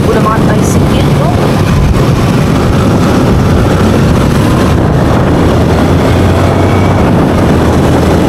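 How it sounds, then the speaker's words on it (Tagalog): A motorized tricycle with a 155 motorcycle engine runs steadily and loudly nearby, a constant rumbling drone mixed with wind buffeting the microphone and a voice speaking over it. "Takbo na mga tricycle, no?"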